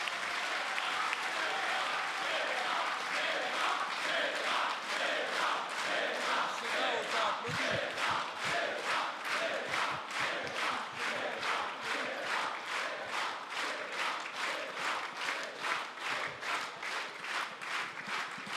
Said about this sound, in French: Et je veux pour cela que vous lui adressiez vos applaudissements